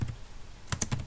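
A handful of quick keystrokes on a computer keyboard enter a terminal command on Linux Mint, a short burst of clicks after a brief pause, close and clear with no talking.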